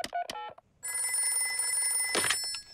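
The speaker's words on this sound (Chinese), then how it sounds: "我来给棕熊医生打电话" A cartoon telephone rings with a bright, buzzy electronic trill lasting about two seconds, preceded by short tonal beeps like dialing, as a call is placed to a doctor.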